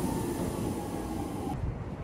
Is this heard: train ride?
yes